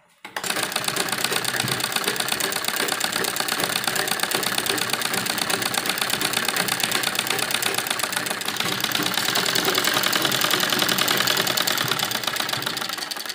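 Electric sewing machine stitching the edge of a small baby dress for a 2–3 year old, a steady rapid mechanical whir of needle strokes running continuously and close, slightly louder toward the end.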